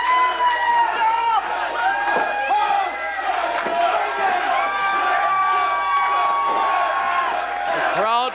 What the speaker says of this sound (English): The crowd firmly behind Stephen Lust as he's trying to stomp his way out of this hold